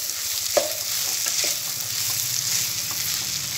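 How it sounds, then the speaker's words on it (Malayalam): Vegetables with salt being stirred in a hot pan for a chilli bhaji snack, a continuous close sizzle with a few scraping stirs of the spoon. "വെജിറ്റബിൾസിന് വേണ്ട ഉപ്പും കൂടെ നമ്മളൊന്ന് ആഡ് ചെയ്ത് കൊടുക്കുകയാണ് നല്ലോണം ഒന്ന് മിക്സ് ചെയ്തെടുക്കാം"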